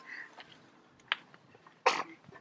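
One sharp, short sneeze bursts out near the end of a quiet home scene, after a smaller cough-like sound, with soft background noises around it.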